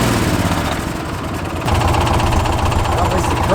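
A John Deere Gator XUV UTV engine is given a little gas during repair and restoration, running loud and close with a rough, throbbing idle that steps up in intensity partway through.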